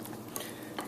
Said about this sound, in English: So just really get it good mixed in there with the egg.